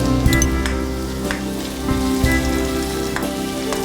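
Chopped garlic and green chillies fry in a pan with a close, crackling sizzle broken by occasional sharp pops and the light scrape of stirring, and no one talks.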